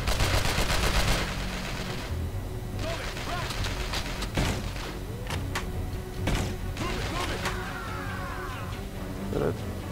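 Rapid gunfire bursts and sharp shots ring out while shooting enemies in the video game Manhunter, mixed with other game effects and a person talking.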